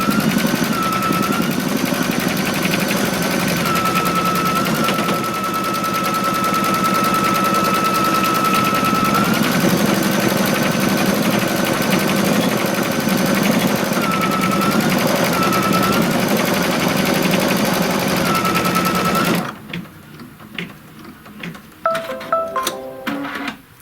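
An embroidery machine stitches a hooped piece in a fast, steady mechanical chatter that runs loud and close for about twenty seconds, then stops and gives way to quieter handling sounds.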